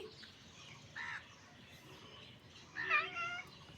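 A cat basking in the sun gives a short meow and then a louder, chirpy call aimed at a bird nearby. Both sounds are fairly faint against a quiet outdoor background.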